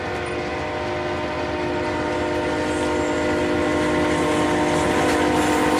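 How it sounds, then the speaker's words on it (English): A Northern Pacific through train led by RS-11 locomotive number 910 rushing past at East Seward, with a steady, loud, continuous diesel drone and rumble holding through the whole stretch, no talk. "A Northern Pacific through train headed by number 910 and RS-11 flies through East Seward."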